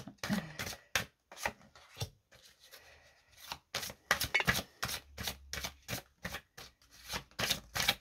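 A deck of oracle cards is shuffled close by, with repeated quick riffling and flicking bursts in an irregular rhythm, separated by short pauses and soft rubbing. Nobody speaks.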